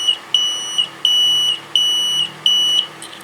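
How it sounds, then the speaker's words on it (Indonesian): A homemade buzzer alarm for railway level crossing JPL 231 at Cigedogan, Purwakarta, sounds a loud, close, shrill electronic beep that repeats in an even on-off pulse about five times, alone. "ini ya suaranya ya, seperti ini kalau pakai buzzer"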